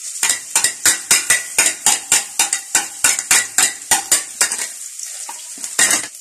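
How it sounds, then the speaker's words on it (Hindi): Ginger garlic paste sizzles in hot oil in a pan for chicken liver curry, with a quick run of loud rhythmic stirring clatters from a metal spoon against the pan, easing into softer frying near the end. "तो ऑयल, अब हम अदरक लहसुन डाल देंगे सबसे पहले।"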